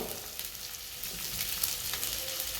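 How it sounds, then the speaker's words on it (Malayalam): Chopped onion hitting a hot pan for a homestyle Kerala chicken curry, a steady broadband sizzle and crackle lasting throughout at moderate, even loudness with no talking. "നെക്സ്റ്റ് അരിഞ്ഞ് വെച്ച് സബോള ഒന്ന് ഇട്ട് കൊടുക്കാം."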